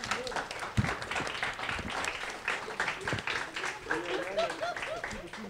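Audience clapping loudly at a battle-style workshop event, steady applause heard under a presenter's voice that continues over it.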